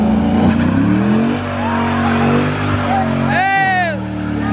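A car does a burnout outdoors, its engine revving hard with loud tire squeal throughout and a sharp rising whine near the end. Voices shout over the noise.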